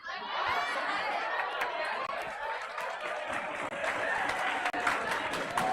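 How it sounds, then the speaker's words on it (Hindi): Students clapping in a classroom, a steady wash of applause mixed with crowd chatter and voices running throughout. "जितना ताली बजा रहा है"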